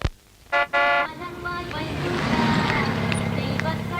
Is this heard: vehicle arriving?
yes